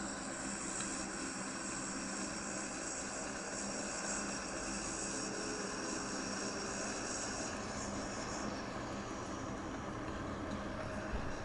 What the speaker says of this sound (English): I can hear a plane coming.